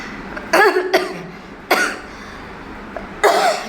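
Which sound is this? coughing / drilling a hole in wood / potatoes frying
coughing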